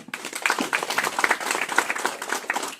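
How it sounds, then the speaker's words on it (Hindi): Audience applause at a franchise opening ceremony, a dense steady patter of many hands clapping close by for the whole stretch, with no voices over it. "तालियां हो सकती है।"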